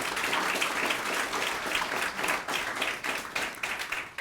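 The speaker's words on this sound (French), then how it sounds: "ils vont se signaler en s'applaudissant très fort pour commencer" A studio audience at a business pitch show claps hard and continuously, a dense, even wash of many hands with small swells throughout and no voices on top.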